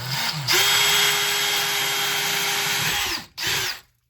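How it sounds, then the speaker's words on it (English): A power drill bores a 5/8 inch hole for a toggle bolt while an over-the-range microwave is installed: one steady whine for about two and a half seconds, a brief stop, then a short second burst, loud and close, with no talk. "So we're going to get drill and go ahead and take care of that."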